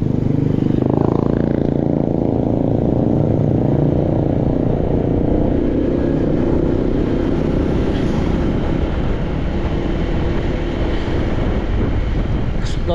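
A motorcycle riding along a provincial road in Manito, Albay, its engine a loud, steady drone heavily buffeted by wind noise for the whole stretch, with no pauses.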